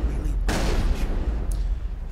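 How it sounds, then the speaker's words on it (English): Wrex's shotgun fires in the Mass Effect video game on Virmire, one sharp, loud blast that rings out briefly before a fainter echo-like burst follows. "Yeah, that's that gunshot you hear. That's Rex's shotgun going off."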